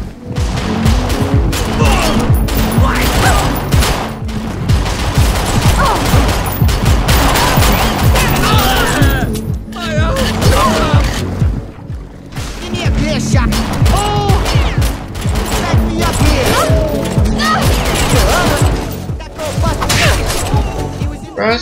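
Dense gunfire in the Xbox 360 shooter Perfect Dark Zero: continuous, loud volleys of rapid shots and booming hits rattle on for the whole stretch, with only brief lulls.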